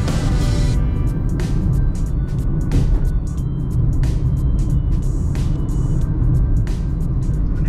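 A bus rumbles past on a city street near the Omani Parliament building, a loud, steady low engine drone filling the scene with a few sharp hissing bursts.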